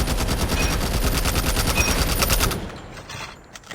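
A DR8 rifle with attachments fires full-auto in Call of Duty Mobile, a dense rapid burst of loud, even gunshots for about two and a half seconds before cutting off into quiet game ambience.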